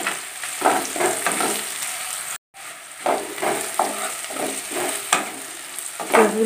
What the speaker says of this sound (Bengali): পেঁয়াজও বেশি ভালোভাবে ভাজবো না, একটু হালকাভাবে ভেজে নিয়েছি।